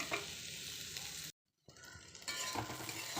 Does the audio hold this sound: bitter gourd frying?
yes